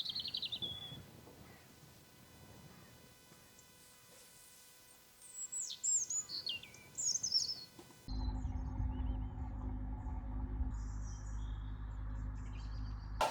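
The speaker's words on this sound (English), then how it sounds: "The birds sound incredible." Several birds sing in bright, repeated chirps and trills at a quiet canal mooring, clear over a low background; partway through, a steady louder low rumble takes over and the birdsong fades.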